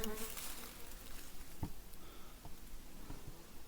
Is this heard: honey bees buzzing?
yes